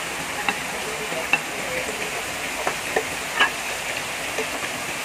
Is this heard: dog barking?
no